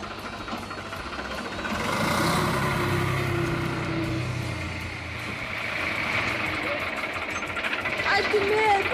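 A tractor engine rumbles and drones nearby while a person talks over it, the low mechanical noise rising and falling steadily.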